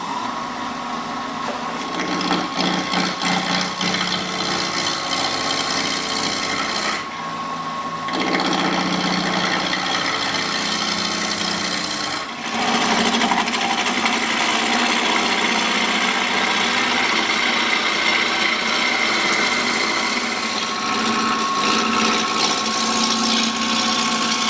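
A Nova wood lathe spins a long wooden drunken rolling pin, about 23 inches and near the lathe's maximum length. A steady motor whine runs under continuous cutting noise throughout, with brief dips near the middle and no talk.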